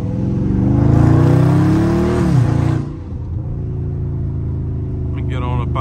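A Dodge Scat Pack drifting, its engine revving loudly and rising before a sharp downshift drops the pitch to a lower rumble, with a person speaking over it.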